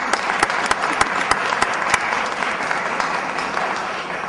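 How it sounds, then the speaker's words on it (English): An audience at a Puerto Rican Day Parade news conference applauding, steady dense clapping with a few sharp individual claps standing out early on, continuous and fairly close. "she deserves a big round of applause"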